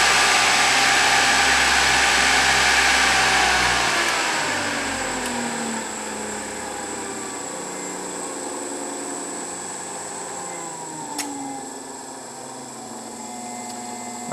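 A brushless DC motor with Hall sensor control runs with a steady high whine and hum, loud at first and then settling to a quieter, even drone with no talking.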